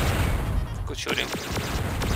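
Gunfire in the video game Descent: several sharp shots and bursts over a constant rumbling ambience, fairly close and loud.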